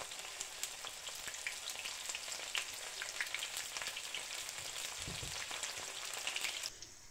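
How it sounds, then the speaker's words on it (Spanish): Artichokes fry in hot oil with garlic, giving a steady, close sizzle with fine crackling and popping throughout that eases near the end, with no voices. "Cuando el aceite esté caliente, veremos cómo los ajos ya se empiezan a hacer y será señal para echar nuestras alcachofas"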